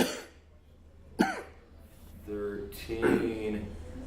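A man coughs in the background of a live-streamed talk show, a few short coughs, including one sharp burst, set among quiet stretches and some speech.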